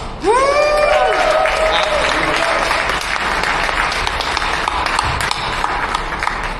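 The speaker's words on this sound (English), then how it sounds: "the round of applause." A large audience at the ETHDenver hackathon's closing ceremony bursts into sustained, loud applause for the event's staff after a brief whooping cheer, with clapping continuing steadily throughout.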